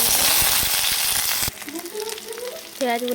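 Onions drop into hot mustard oil with dried red chillies and panch phoron in a wok, giving a loud, crackling sizzle at first that quickly settles to a softer fry while a voice talks over it.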